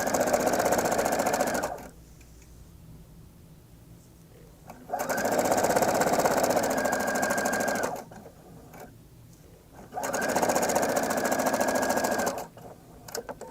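Sewing machine stitching a seam on a top, a loud close motor whir in three long runs separated by quiet pauses, with faint background sounds between them.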